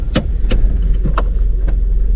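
A Maruti Eeco car rolls to a stop on a village road, its low engine rumble steady and close, with a few sharp clicks and knocks from the body scattered over it.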